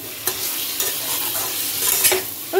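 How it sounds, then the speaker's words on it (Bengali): Chicken and prawns frying together in a pan for prawn chicken pulao, a loud continuous sizzle with stirring scrapes at a few points, close up and without talk. "চিকেন আর চিংড়িটা একসাথেই দিয়ে দিলাম"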